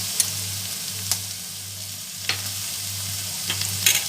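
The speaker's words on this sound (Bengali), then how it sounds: "সবজিটা আমার হালকা ভাজা হয়ে এসেছে।" Vegetable stuffing for prawn and chicken drumsticks, seasoned with black pepper and tomato sauce, fries steadily in a pan, with a few sharp spatula scrapes and clicks as it is stirred, over a low constant hum.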